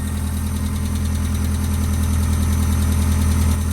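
Supercharged NA Miata engine running at a steady idle, a loud, even mechanical hum with a constant low throb and faint whine, uninterrupted and close.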